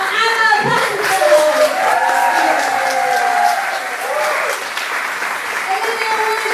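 Sustained audience applause with steady clapping fills the room at a stand-up performance, loud and continuous throughout, with faint cheering and scattered voices mixed in.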